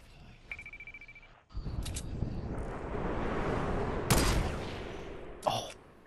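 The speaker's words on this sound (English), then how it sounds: "I I got only 6 sniper shots left, guys." Sniper rifle shots in the Fortnite battle royale game: a few sharp, loud cracks stand out over a steady wash of game noise, with a separate later report near the end.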